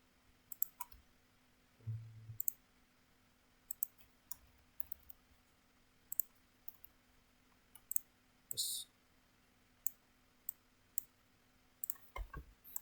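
Computer mouse clicking while copying and pasting in a medium-voltage network and SCADA system, sparse sharp clicks spaced a second or so apart over a quiet room, with a brief murmur of voice.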